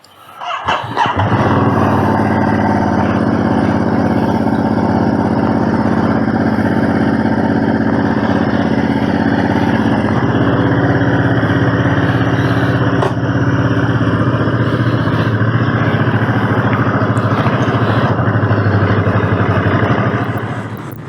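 A Ducati Monster 937 motorcycle cruising with cruise control engaged holds a loud, steady engine drone with strong rumble and wind noise, constant throughout after a brief start.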